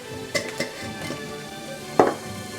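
Onion cooking down in a pan with seasoning and egg added, a low steady sizzle with a few sharp clinks of a utensil against the pan and some stirring, close by with no voices.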